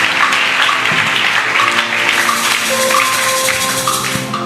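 A church congregation applauds at a Sunday service, a steady dense wash of clapping hands held at even loudness throughout, with no talking.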